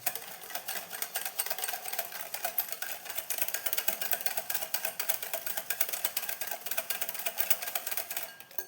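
Butter and sugar are beaten for biscuit dough with a fast, steady, whirring mechanical buzz that runs continuously at moderate volume.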